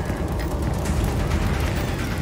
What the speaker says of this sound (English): Enjoying the fireworks.